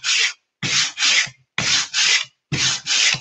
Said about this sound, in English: I don't want to sand too much, but just a few key areas here